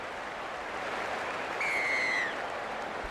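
Stadium crowd noise at the kickoff of a women's rugby league match, a steady broad roar with a sustained whistle blast cutting through midway, heard at a distance without commentary over it.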